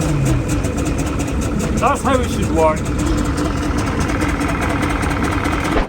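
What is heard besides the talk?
boat engine starting and idling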